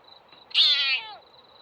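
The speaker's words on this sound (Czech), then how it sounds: "Mě ta kočka vyskočí." A cat gives a single clear meow lasting about half a second, close by, against a quiet background with a faint steady high hum.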